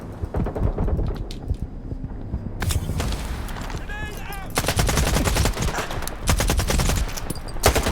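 Dense automatic gunfire in a run-and-gun battle in Stalker 2: Heart of Chornobyl, rapid loud bursts that nearly fill the whole stretch with only brief lulls, and a voice talking over the shooting.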